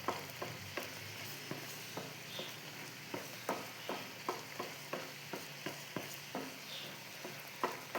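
Banana pieces fry in a pan while a spatula stirs them in regular scraping strokes, each stroke a soft scrape over a faint steady sizzle, quiet and close with no talking.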